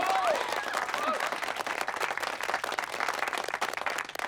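Audience applause, dense steady clapping from a crowd that fills the whole stretch, loud at first and easing slightly, with a few brief voices mixed in.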